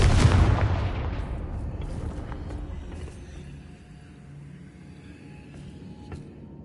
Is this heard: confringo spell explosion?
yes